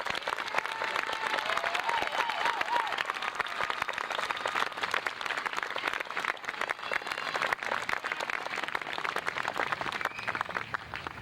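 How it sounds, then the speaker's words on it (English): A large audience at a high school graduation ceremony claps loudly and continuously, a dense, even wall of applause that holds for the whole stretch without a break. "Ladies and gentlemen, please give CSF Life members a round of applause."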